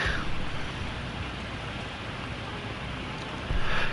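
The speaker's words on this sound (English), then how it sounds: "It is raining outside" Rain falls outside in a steady, dense hiss of drops on surfaces, holding an even level with a slight swell near the end and no voices.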